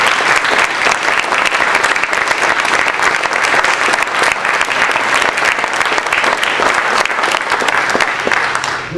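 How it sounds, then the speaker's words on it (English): Sustained audience applause at a university research and creativity awards ceremony, steady dense clapping filling the room for the whole stretch without pause. "Let's give him a round of applause."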